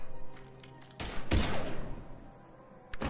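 Sudden burst of video game gunfire: a loud volley of shots erupts, then decays into a rumbling tail, with another shot cutting in at the end.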